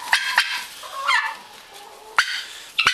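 Turkeys gobbling in a barnyard shared with chickens and sheep, sharp rattling bursts spaced out over a low, busy farmyard background, fairly close with no one talking.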